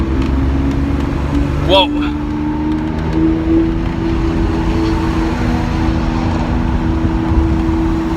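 A red Lamborghini Aventador SV at an Italian sports car gathering, its engine droning loud and close with a brief rising rev, while a voice exclaims briefly over it.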